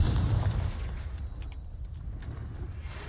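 A Confringo blast spell from Hogwarts Legacy bursts with a deep, loud boom that rumbles and fades over the next few seconds into a quieter tail with faint high glints.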